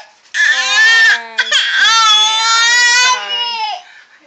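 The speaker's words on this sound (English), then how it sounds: "When I say, can I have it? And I try to take it, then he cries." A toddler cries loudly in close, wailing bursts when his cookie is taken away, with a brief catch of breath between sobs.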